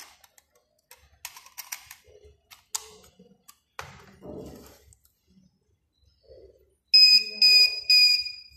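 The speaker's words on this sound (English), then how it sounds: "after you hear beep beep beep sound, it means the configuration is completed" An NXS-3 speed limiter beeps three times in quick succession as its USB configuration completes, sharp high electronic tones following scattered handling clicks and taps.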